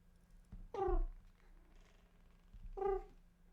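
A pet cat gives two clear, close meows about two seconds apart over a soft, steady purr in a quiet room.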